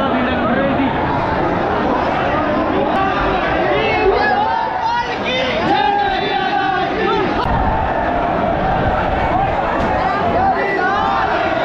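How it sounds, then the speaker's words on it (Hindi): Large, dense crowd at Banke Bihari temple in Vrindavan during a Holi festival procession, a continuous roar of many voices shouting and chattering close by. "बहुत ज़्यादा भीड़ लग रही थी।"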